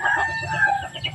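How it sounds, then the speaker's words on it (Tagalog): Backyard chickens clucking and calling with a rooster crowing, a short continuous stretch of fowl voices close by, with no talk. "bantay muna tayo sa mga manok ko po."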